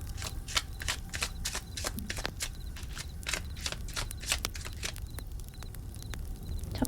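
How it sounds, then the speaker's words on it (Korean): Tarot cards are shuffled and drawn up close, a quick run of soft papery flicks and taps in an irregular patter, fairly quiet with no voices. "그러면 카드를 뽑아볼게요."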